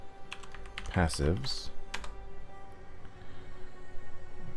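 Quick bursts of typing on a computer keyboard entering a command into the Path of Exile game chat, a short flurry of close key clicks over a steady background hum.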